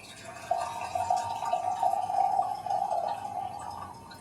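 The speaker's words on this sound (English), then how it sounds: "Nice smooth pour" Brewed Dancong oolong tea poured from a lidded brewing vessel into a glass pitcher, a steady, thin trickling stream of liquid lasting several seconds, close and fairly quiet.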